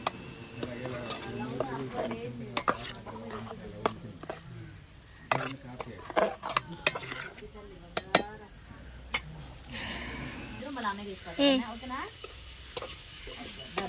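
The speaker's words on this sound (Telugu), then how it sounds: "ఉల్లిపాయలు అయితే మాడకుండా నేనైతే తిప్పుకుంటున్నానండి" Chopped onions with curry leaves frying in a pan for a raw prawn curry, stirred repeatedly with sharp scraping clatters over a continuous sizzle, while someone talks throughout.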